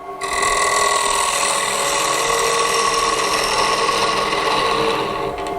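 A woodturning tool cuts into spinning wood on a lathe, a loud steady buzzing, rasping tone lasting several seconds without pause, no talking.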